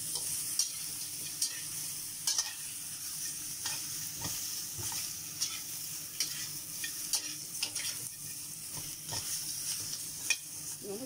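Pig's trotters fry in a pan with a steady, soft sizzle and scattered small crackles and pops, close by with no voices.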